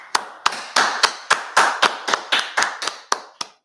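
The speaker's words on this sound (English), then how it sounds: "clap it up" A brotherhood class in San Antonio claps together in steady unison, a dozen sharp, evenly spaced claps close by that stop abruptly, with no voices over them.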